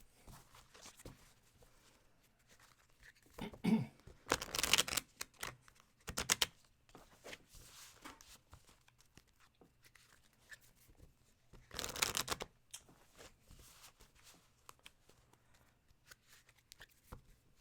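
Tarot cards being shuffled in a few short riffling bursts, separated by quiet stretches with faint handling sounds.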